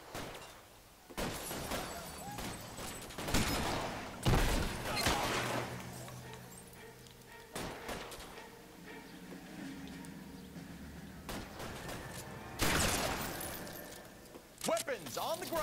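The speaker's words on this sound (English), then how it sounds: "Shotgun." A shotgun fires during a police standoff in a destruction-physics video game, with sharp loud blasts at irregular intervals amid crashes and shattering debris.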